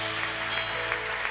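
A church congregation claps in a dense, steady burst of applause, loud and continuous throughout with no voices over it.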